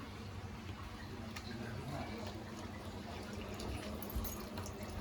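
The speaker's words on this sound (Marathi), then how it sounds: "आता हा पाणी याच्यामध्ये ॲड करायचा आहे" Water pours steadily into a cooking pot of mud crab curry in a continuous, soft rushing stream, fairly quiet and uninterrupted.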